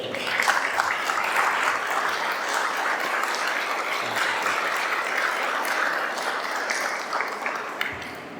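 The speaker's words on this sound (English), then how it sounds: "Round of applause for her." An audience at the opening of the 2025 Zerbe Program applauds in honor of Pat Zerbe, a steady, even wash of many hands clapping that carries on throughout without a break.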